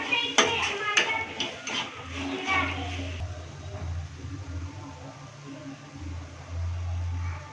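Spices being stirred into frying onions for an Indian egg curry: a few seconds of clattering utensil scrapes against the pan, then a low, steady background sizzle and hum, with someone speaking throughout.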